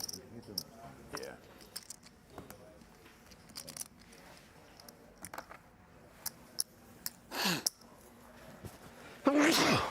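A sneeze bursts out near the end at a televised poker tournament table, sharp and loud after a quiet stretch of chip clicks, card handling and scattered low talk.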